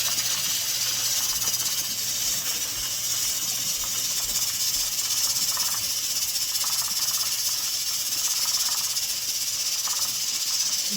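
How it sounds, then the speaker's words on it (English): Steam vents from a pressure canner in a continuous, fairly loud hiss that stays steady throughout, with no talking. "The steam is still coming out of there"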